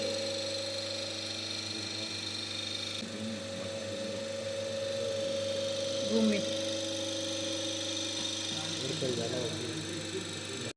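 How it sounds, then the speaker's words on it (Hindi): A running AC to DC shunt motor-generator set in an electrical practical, giving a steady electrical hum and whir that continues throughout, with someone talking over it. "अब देखो इसके बाद अब ये मोटर घूमेगी"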